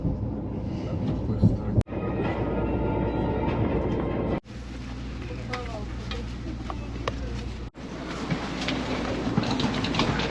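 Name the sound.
Russian Sapsan bullet train ride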